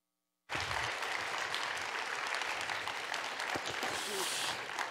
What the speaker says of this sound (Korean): 응원의 박수 힘차게 보내드리겠습니다.